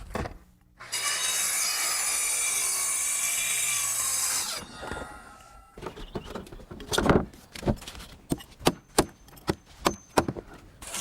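Power saw cutting through wooden floor sheeting at the end of a building's deck, a loud sustained buzzing cut for several seconds, followed by scattered knocks and handling thumps.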